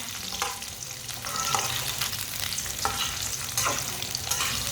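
Apple gourd (tinda) sizzles in a pan for a daal and tinda curry while a spoon stirs it. Steady frying hiss runs under periodic scraping strokes of the spoon, heard close up with no talking.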